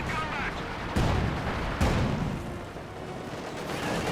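Game artillery and gunfire striking a Panzer tank in Company of Heroes 2, two dull booming impacts about a second apart within a dense, continuous wash of battle noise.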